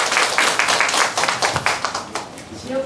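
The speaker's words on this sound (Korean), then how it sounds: "자, 박수 한번 쳐주시고요." An audience at a Korean church leaders' gathering claps, dense continuous applause from many hands that tapers slightly toward the end.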